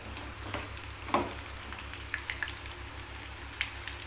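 Soya chunks fry in hot oil for soya chilli, a steady close crackling sizzle with a few sharper pops, continuous and alone throughout.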